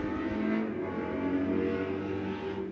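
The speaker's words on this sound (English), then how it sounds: "Thank you, cars from the street outside my house. You're very loud." Cars on the street outside a house pass continuously as a loud, steady engine and tyre rumble, with no talk heard.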